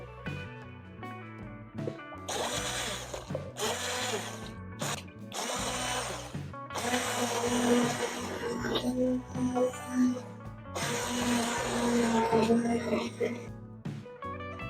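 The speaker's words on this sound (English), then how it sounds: "now we can blend our soup to that smooth consistency that we want" A hand blender purees potato, leek and rosemary soup in bursts, its motor whirring and churning on and off in uneven pulses while a person talks over it.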